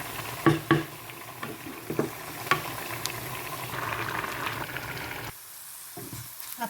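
Oil sizzles and crackles in a pan as a tempering with curry leaves fries, with scattered pops and stirring scrapes, steady and close, then quiets briefly near the end.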